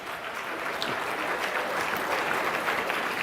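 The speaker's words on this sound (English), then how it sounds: "Come on, clap." Audience applause at a leadership talk, a dense, even clapping wash that continues steadily from start to finish with no voices over it.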